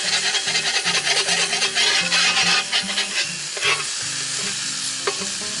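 Sugar-cured bacon fries and sizzles on a Blacklock cast iron griddle over a campfire, a steady dense crackle with scraping and stirring strokes near the pan, and no voices.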